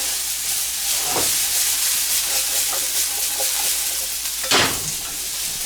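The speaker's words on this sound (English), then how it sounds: "Now we're gonna put the whole bunch of broccoli there" Broccoli and garlic sauté in a hot pan with a steady sizzle and hiss. Louder bursts of frying and stirring come at about 1 and 4.5 seconds, and no one speaks.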